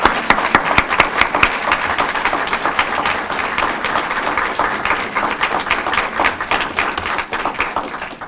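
Crowd applause at an evening candlelight vigil for homicide victims in Cobb County, opening with a few sharp, distinct claps and swelling into a continuous, fairly loud wash of many hands clapping that carries steadily to the end.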